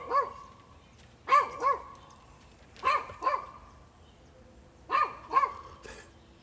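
A dog barks in the distance, giving short pairs of faint barks spaced a second or two apart, with quiet gaps and a slight echo in between.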